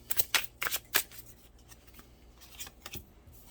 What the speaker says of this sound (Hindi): आपके सामने ही सारे कार्ड शफल होते हैं